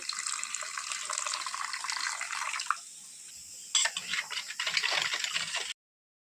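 Water runs from a tap into a container to mix turmeric and spice paste for a desi catfish curry, a steady close splashing stream that pauses briefly and resumes before cutting off abruptly.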